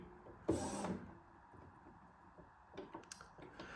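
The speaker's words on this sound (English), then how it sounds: "just turn our printer off, press the button once and it will turn off" Epson Expression Home XP-2200 inkjet printer powering down gives a sharp mechanical clunk followed by a brief whirring movement, then a quiet pause and a few soft internal clicks and rattles near the end.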